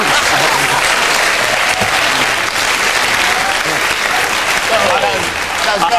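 A TV panel show's studio audience cheering and clapping, a loud continuous crowd roar with applause and faint voices mixed in throughout.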